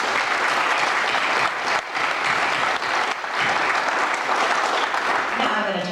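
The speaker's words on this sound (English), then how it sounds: "So graduates, please join me in a round of applause for those who have been so much a part of your life" Graduation audience breaking into sustained applause, dense and loud clapping from a large crowd filling the whole stretch without letup.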